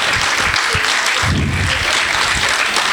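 An audience at a vocal studio performance claps enthusiastically, a dense, sustained burst of applause filling the room at steady loudness.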